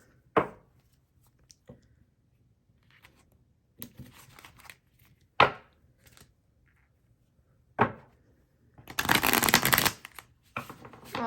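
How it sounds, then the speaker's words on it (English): Tarot cards being shuffled in sharp, brief riffling bursts at irregular intervals, close and crisp, with one longer flurry of shuffling near the end and quiet gaps between. "Shuffle this one more time here."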